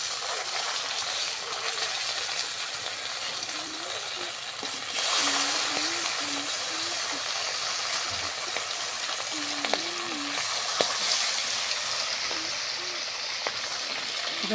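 Fish pieces frying in hot oil in a pan for a fish curry with okra, a steady close hiss and crackle throughout with occasional stirring clinks and no voices.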